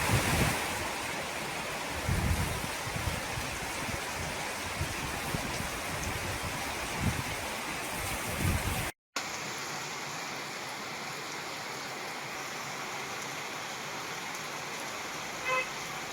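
Heavy storm rain in the Warangal district during a cyclone, a dense steady roar with wind gusts buffeting the microphone, broken by a brief cut midway before continuing as a softer, even wash of rain.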